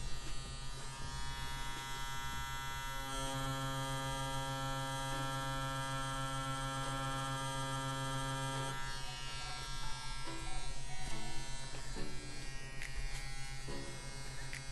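CNC CW2 wireless tattoo machine buzzing steadily while pulling lines, a close, even electric hum with a shifting tone partway through, running continuously throughout.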